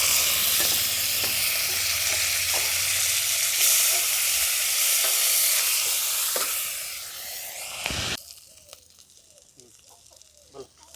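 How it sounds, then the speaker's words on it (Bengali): Small river fish frying in hot oil in a pan, a loud steady sizzle with stirring scrapes that cuts off sharply near the end, leaving faint quiet clinks. "বাকি মাছগুলো আমি এবারে ভেজে নেব।"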